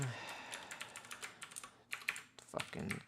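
Rapid clatter of computer keyboard keys being typed, irregular bursts of close, crisp clicks at moderate volume with brief pauses between runs.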